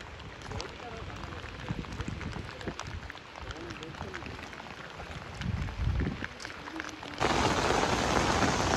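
Steady rain falls continuously during a village flood, a broad hiss of drops across the whole stretch with gusty rumbles, growing heavier and louder toward the end; talk is heard over it.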